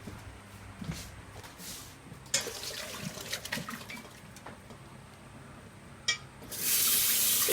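Boiling water drained off a pan into a sink, intermittent splashes and clanks building to a loud rushing pour at the end, close by.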